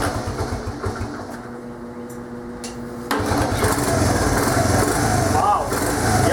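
A Honda TRX70 ATV engine cranks and catches partway through, then runs at a steady, buzzing idle close by, with people talking over it.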